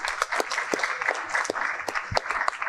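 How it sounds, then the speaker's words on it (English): Audience applause, a steady patter of many hands clapping at moderate volume, with faint voices mixed in. "they gave you a rounding applause after I said that"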